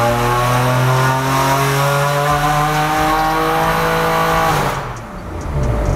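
A loud tuned BMW S55 engine revs hard on a dyno with harmonics climbing steadily in pitch, then cuts off abruptly near the end before rumbling back.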